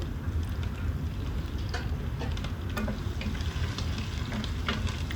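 Crushed ginger, garlic and long-sliced green chillies sautéing in oil in a pan for beef roast, a steady close sizzle with occasional stirring scrapes and light pops.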